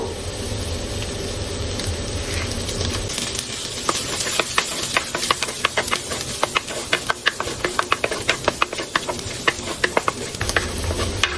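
Chopped curry leaves drop into hot oil in a pan for a quick egg rice: a constant frying hiss builds into a dense run of sharp crackles and pops through the second half, close and loud, with no talking.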